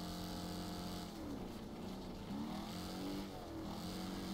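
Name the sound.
car engine straining in the video game Wreckfest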